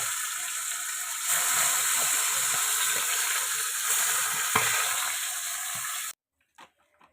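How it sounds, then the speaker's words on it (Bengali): Fish frying in hot oil in a home kitchen, a steady broadband sizzle with a brief louder pop, running close and loud for about six seconds before cutting to near silence. "মাছগুলোকে তেলে দিয়ে দিয়েছে তেলে ভাজছে"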